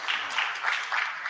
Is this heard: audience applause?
yes